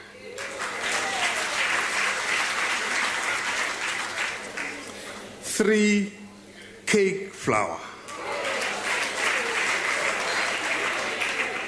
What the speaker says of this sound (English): I know you are clapping, that's very good